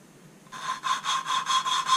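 Valve seat lapping on a Honda CB125E cylinder head with grinding paste, a close, quiet rhythmic rasping that starts after a short pause and repeats in steady back-and-forth strokes about four times a second.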